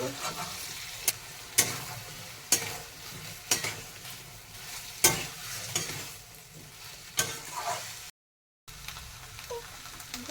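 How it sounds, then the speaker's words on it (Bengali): Spice masala frying on low gas while a spoon stirs it, a steady sizzle broken by sharp scraping strokes at irregular intervals, close up with no talking. "গ্যাসের স্টিমটা কমিয়ে মশলাটাকে ভালো করে কষে নেব"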